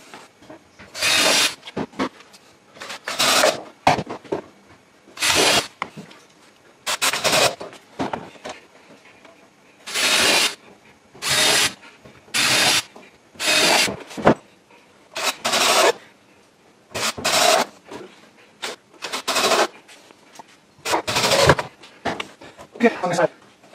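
A power drill driving screws into a wooden casting sifter frame, sped up, gives a series of short, loud whirring bursts separated by brief gaps, fairly close.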